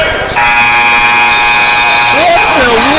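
At a high school boys basketball game between Minneapolis, Kansas and Southeast of Saline, a loud, sustained electronic buzzer blares for about two seconds, and a voice speaks over its end.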